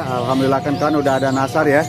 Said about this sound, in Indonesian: Stok burung perkutut juga, perkutut lain-lainnya di sini tersedia pilihan.